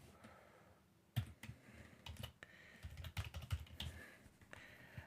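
Close, quiet computer keyboard typing as a password is entered, with irregular bursts of soft key clicks and a few sharper taps spread across several seconds.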